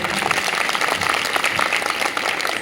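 Dense, steady applause from an audience at a live song performance, loud and continuous for a few seconds with no pauses.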